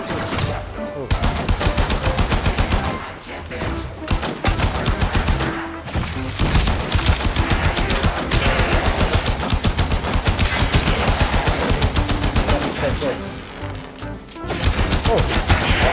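Rapid automatic primary-weapon gunfire from the game Warframe fills the scene in long, loud, close bursts of dense shots, broken by a few brief pauses between strings of fire.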